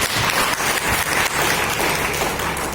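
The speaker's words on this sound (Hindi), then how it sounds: "तालियों की गड़गड़ाहट से" Audience applause at a foundation day gathering: dense, continuous clapping that fills the space evenly, with a few stronger claps rising and falling throughout.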